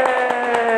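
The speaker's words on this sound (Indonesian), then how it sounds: "tepuk tangan buat Mbak Wit" Hands clapping in a classroom, a quick run of sharp pats close by, over a steady tonal hum.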